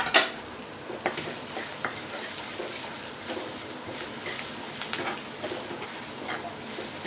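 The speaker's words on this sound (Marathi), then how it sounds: "हे पाच मिरच्या आपण छोटे छोटे तुकडे करून घेतलेले ते मी या तेलात टाकते" Five chopped green chillies frying in hot oil, a continuous moderate sizzle with sharp pops and crackles scattered through, a louder burst at the start, and no talking.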